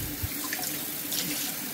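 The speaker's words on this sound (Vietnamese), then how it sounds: "Bây giờ mình xả nước lạnh, xả cho cái sợi bánh phở này" Cold tap water runs steadily from a faucet over soaked rice noodles in a basin, a continuous close splashing rush with no talk.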